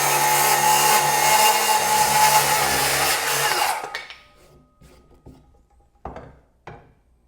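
A power saw blade rips through hard, dense, rot-resistant decking wood in one sustained loud whine that cuts off abruptly, followed by a few short knocks and clatters as the board settles.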